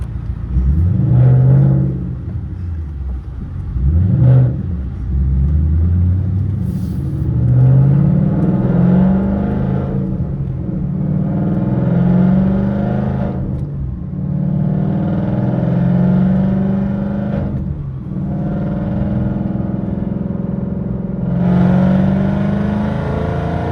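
A car fitted with a VMP Gen3R supercharger makes a one-gear 2,500 to 5,000 RPM pull, its engine loudly climbing in pitch in repeated rising sweeps with a steady mechanical whine, and no talking.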